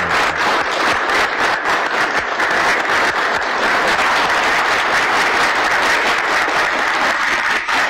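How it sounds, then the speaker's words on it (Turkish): Standing ovation in the Sivas Congress hall in 1919 as Mustafa Kemal enters, a loud, dense, continuous roar of clapping from a full assembly, unbroken from start to finish. "Ayakta alkışlar."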